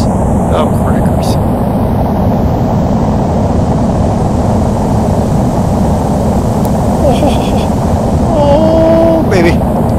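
A de Havilland Comet jet airliner in Flight Simulator X roars steadily through its takeoff run, a loud, continuous engine rumble and jet wash filling the whole stretch, with a brief higher whine near the end.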